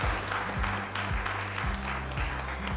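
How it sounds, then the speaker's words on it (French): Strong applause from an audience at a municipal project launch in a hall, honouring Swiss development cooperation, a brisk, dense clapping with a rhythmic low thump repeating underneath. "je vous demande de m'aider avec vos mains pour applaudir avec la force la DDC Suisse"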